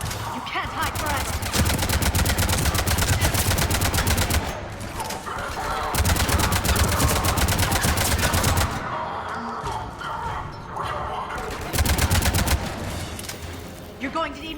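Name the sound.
gunfire in the video game Mass Effect 3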